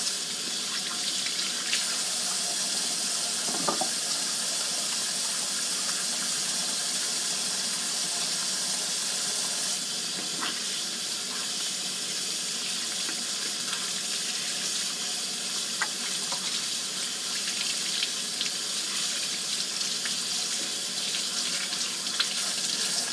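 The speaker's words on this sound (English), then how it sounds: "we have to wash our hands" Steady rush of water running from a kitchen tap during handwashing, a constant hiss and splash, with no talking.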